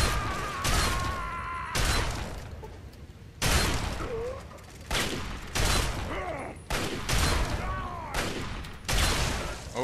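Gunshots fired at a dead body in the Fallout 3 video game, a series of loud, sharp shots spaced about a second apart, each followed by a short ringing tail, with game sounds between.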